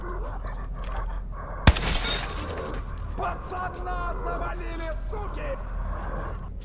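A sharp crash of glass shattering in Metro Exodus: Sam's Story, a single sudden break followed by a brief scatter of falling shards, amid game ambience and talking voices.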